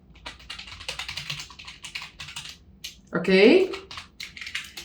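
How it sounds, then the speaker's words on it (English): Keyboard typing while code is entered on a computer, a run of quick clicky keystrokes throughout with a brief louder clatter midway, and a person talking briefly over it. "let's type here something like cout"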